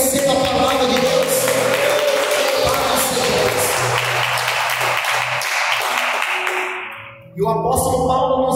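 Congregation clapping in praise at an IPDA church service, a dense, steady wash of applause that swells and then fades out near the end, with sustained organ or keyboard tones underneath.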